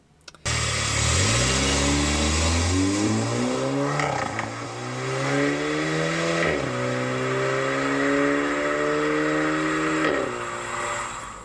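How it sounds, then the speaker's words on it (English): A facelift VW Golf R with an aftermarket exhaust and DSG gearbox rises in pitch through several gear changes while driving, loud and close, a steady drone climbing then dropping at each shift. "So let's hear how it sounds on the facelift Golf R."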